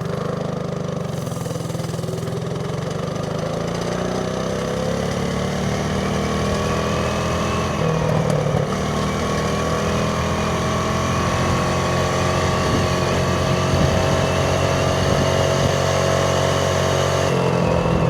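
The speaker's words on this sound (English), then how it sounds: "Let's see if we got any speed improvement with this new pipe on here though." A mini bike engine with a new exhaust pipe runs steadily for the whole stretch, a buzzy, raspy exhaust note holding a near-constant pitch with slight rises, close and loud.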